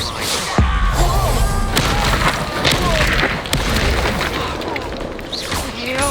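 A Bombarda blasting spell detonates in Hogwarts Legacy, a loud booming burst amid crashing, splintering debris and ongoing combat effects that keep the scene busy for several seconds.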